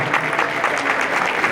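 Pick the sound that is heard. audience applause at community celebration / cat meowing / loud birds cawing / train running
audience applause at community celebration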